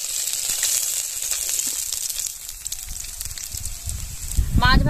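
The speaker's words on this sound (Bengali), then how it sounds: "এইভাবে করে সমস্ত মাছ ভেজে নেব।" Bhetki fish frying in hot oil in a kadai, a steady, close crackling sizzle for the whole stretch, with a brief voice and a louder burst near the end.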